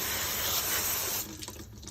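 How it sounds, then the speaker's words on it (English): Tap water sprays onto a metal part to rinse off acid, giving a steady close hiss of running water that drops away sharply after about a second. "Gonna go ahead and rinse the acid off of the thing."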